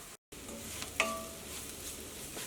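Turmeric and ground spices sizzle softly in a hot pan while a spoon stirs, giving a faint steady crackle with a couple of light scraping clicks, for a Kerala wedding-style beef curry.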